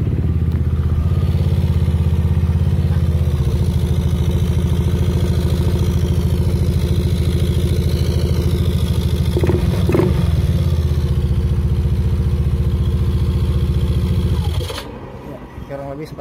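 A Yamaha Aerox 155 scooter engine idles steadily and loudly up close, a continuous low mechanical drone with faint clatter, dropping away sharply near the end as it is shut off or muffled.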